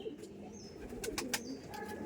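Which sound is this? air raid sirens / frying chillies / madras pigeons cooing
madras pigeons cooing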